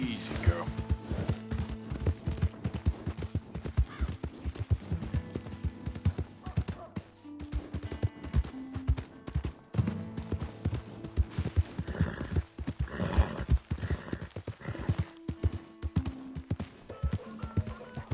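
Horse hooves clip-clop in a video game, a steady trotting rhythm set against game music and effects, with a voice talking over parts of it.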